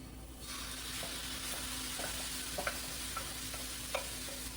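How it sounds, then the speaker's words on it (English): Chickpea stew ingredients fry in a pan under a steady, close sizzle, with soft, occasional scrapes and taps as a utensil keeps the food moving around. "just keep moving this around the pan so nothing burns"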